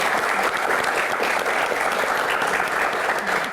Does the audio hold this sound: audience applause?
yes